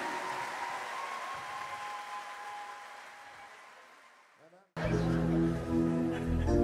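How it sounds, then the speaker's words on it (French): An audience applauds at a choir concert, steady clapping and cheering that slowly fades before a loud burst of music takes over. "Des applaudissements bien grands encore pour la Goa à la pêche."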